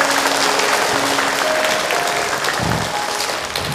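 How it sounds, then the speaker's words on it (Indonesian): An audience at an Islamic religious lecture gives sustained applause, a loud, dense wash of clapping that carries on throughout and eases slightly toward the end. "Tepuk tangan buat kita semua."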